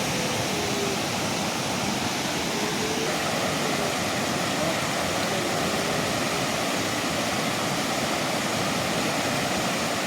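Flood water roars through overflowing streams and culverts after heavy rain, a loud, unbroken rushing wash with no pauses.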